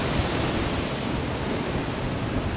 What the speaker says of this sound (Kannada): ಅಲೆಗಳು ಅಲ್ಲಿ ಗಂಟ ಬರುತ್ತೆ ನೋಡಿ, ಅಲ್ಲಿ ಗಂಟ ಬರುತ್ತೆ.